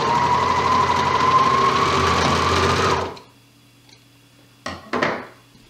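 A sewing machine stitches elastic into the waistline of a reversible swimsuit, running loud and steady for about three seconds before it stops, followed by two brief handling clatters.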